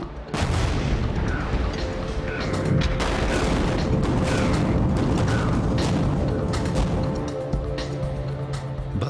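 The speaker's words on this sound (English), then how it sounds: "The hardest rock is blasted, using traditional dynamite in controlled explosions." Controlled dynamite blasts break hard rock during tunnel excavation, producing a loud, sustained rumbling roar of detonations with rattling debris and mechanical clatter that fades slightly toward the end.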